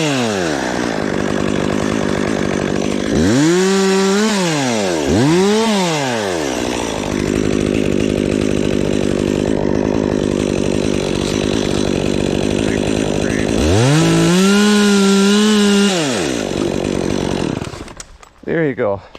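Chainsaw felling a small tree with a back cut, the engine loud and close, revving up and down in rising and falling surges, then idling before cutting off near the end.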